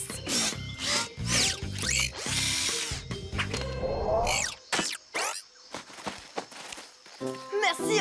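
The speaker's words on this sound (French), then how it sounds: "Tournevis." A cartoon screwdriver whirs like a power drill in repeated loud bursts while a cage is taken apart, mixed with clanks, scrapes and busy animated sound effects.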